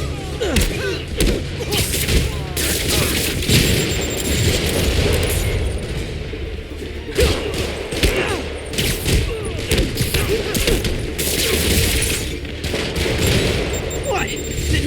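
Repeated rocket blasts and booming explosions from combat in the video game Marvel's Spider-Man Remastered, a dense, continuous barrage of thuds and crackling bursts with a character's voice occasionally over the action.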